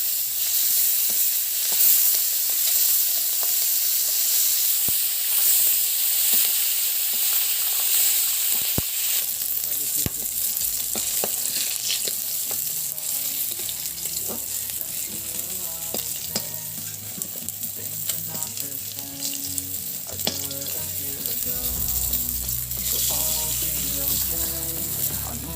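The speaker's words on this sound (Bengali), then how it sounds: "একইভাবে আমি বাকি মাছগুলোকেও ভেজে নিব" Pieces of katla fish frying in hot oil, a steady broadband sizzle and crackle holding for the whole stretch, close up and loud, with occasional stirring clinks and no speech.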